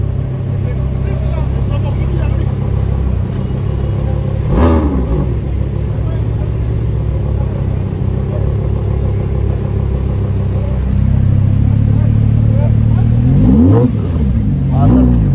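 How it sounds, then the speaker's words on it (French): Audi R8 supercar at a Paris supercar gathering, engine idling with a steady low rumble, then a revving surge near the end, with crowd chatter throughout. "Et là on va voir le démarrage de l'R8."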